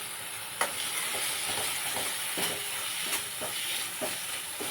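Masala frying in a pan as it is stirred for ghugni, a continuous close sizzle broken by repeated short scrapes of the spoon at a steady pace.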